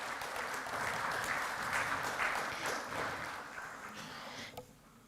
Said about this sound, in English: A big round of applause for the Honourable Prime Minister.